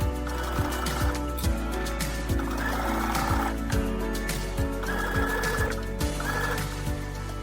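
A sewing machine stitches a pants zipper in short, rhythmic bursts of rapid needle clatter, starting and stopping repeatedly at close range, fairly quiet.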